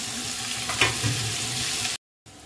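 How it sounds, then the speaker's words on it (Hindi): Garlic, ginger and desi onion frying in a hot tempering with spices, a loud close continuous sizzle that cuts out briefly near the end, no talk. "लहसुन, अदरक और वो देसी प्याज, ये हल्की सी होने के बाद इसमें डाल देते हैं प्याज"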